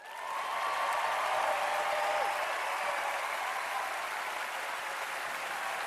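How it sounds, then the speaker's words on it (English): A large crowd applauds steadily, producing a dense, even wash of clapping for a few seconds. A faint tone drifts in the background. "And the crowd goes wild."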